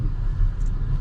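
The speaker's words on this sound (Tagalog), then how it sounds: "Ito pa namang sasakyan namin" A family car's engine rumbling at low revs, a deep steady drone heard from inside or right beside the vehicle, continuous for a second with no voices.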